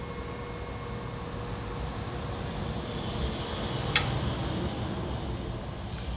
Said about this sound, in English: So when I flip it on, the motor immediately comes on to half speed